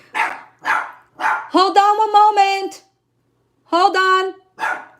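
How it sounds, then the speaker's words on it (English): A dog at home barks in short, loud, close bursts, about four sharp woofs spaced across the moment, while a person talks in between. "I'm so sorry that my dog's barking triggered your dog."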